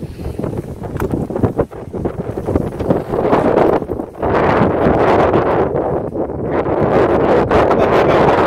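Strong wind buffets the microphone outdoors in a continuous loud roar with gusty rustling, broken by a brief dip around the middle, with no one talking.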